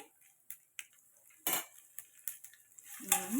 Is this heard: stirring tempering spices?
yes